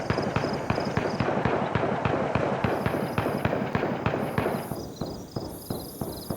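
Rapid bursts of weapon gunfire in the video game DayZ, a fast, even string of sharp, loud shots cracking in quick succession, with a slight echo.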